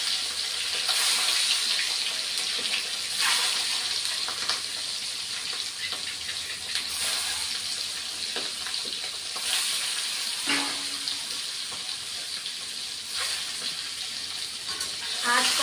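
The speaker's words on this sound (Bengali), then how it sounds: "বন্ধুরা আমি এখন ডিমগুলি দিয়ে দিচ্ছি, ভেজে নেব ডিমগুলি।" Eggs frying in oil in a pan for a Bengali egg curry, giving a steady broadband sizzle with occasional pops and utensil scrapes, close and continuous throughout.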